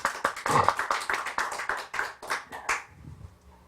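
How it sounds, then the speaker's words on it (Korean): Audience applause during a church sermon lecture, a burst of many hands clapping in a hall that carries on steadily for about three seconds before tapering off into quiet. "박수 한번 쳐주세요."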